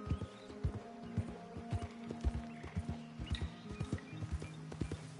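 Horse hooves gallop in Red Dead Redemption 2, a steady, fast clip-clop of hoofbeats at moderate loudness over faint game ambience.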